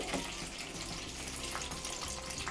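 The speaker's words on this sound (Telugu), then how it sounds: "కరివేపాకు ఇవి బాగా వేగాలి" Garlic, green chilies and curry leaves fry in hot oil for a turmeric stew, giving a dense, steady, close crackling sizzle with no talking.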